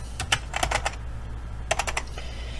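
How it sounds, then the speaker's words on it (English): A short burst of computer-keyboard typing into a search bar, with quick clustered keystrokes, a brief pause, then another run of taps, close and clear with no speech. "I'll just type comic strip."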